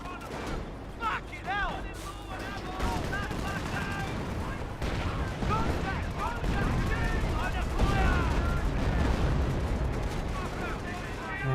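Artillery barrage in the Company of Heroes WWII strategy game: dense, continuous rumbling explosions and gunfire with whistling shells, steady and loud throughout, mixed with battle noise and voices.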